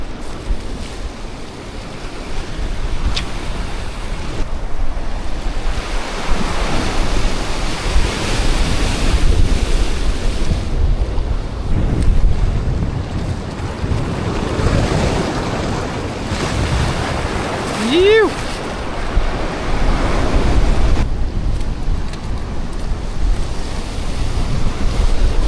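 Wind blows off the sea at the foot of a cliff, with surf washing below. The roar is loud and steady and rises and falls in gusts, with no voices.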